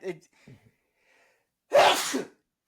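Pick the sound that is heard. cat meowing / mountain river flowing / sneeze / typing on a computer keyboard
sneeze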